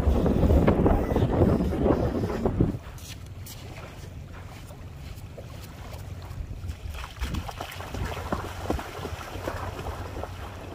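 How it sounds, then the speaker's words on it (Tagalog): Strong wind on Cagbalete Island buffets the microphone in loud gusts at first, then settles into a steady lower roar with occasional bursts. "Napakalakas ng hangin ngayon."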